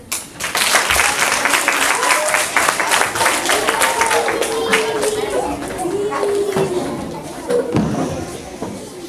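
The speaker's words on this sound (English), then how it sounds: "Give a big clap to Ilan Daniel." Applause from a school audience at a primary-school English theatre show as a young magician is introduced, sharp scattered clapping with children's chatter and cheers mixed in, fading slightly toward the end.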